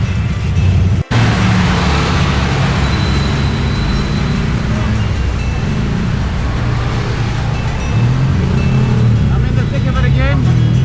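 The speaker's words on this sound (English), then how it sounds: "and of course the traffic" Busy road traffic on a motorbike ride from Angeles to Tagaytay in the Philippines, with a steady loud roar of engines and passing cars and motorbikes throughout, under wind rumble, with a sharp knock near the start.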